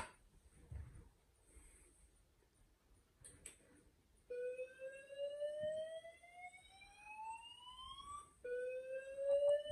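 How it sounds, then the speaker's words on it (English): An MX1 fire alarm system sounds its alarm after a call point is triggered: a loud electronic tone rising steadily in pitch, cutting in abruptly and restarting its sweep, following quiet room noise with no speech. "let's go ahead and trigger a fire alarm."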